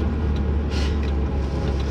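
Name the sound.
Mitsubishi Evo 8 manual car driving, engine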